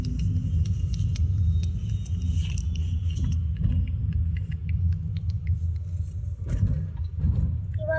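Steady low rumble of traffic heard from inside a moving vehicle on the Mumbai–Pune Expressway, with a passing truck adding a heavier swell near the end.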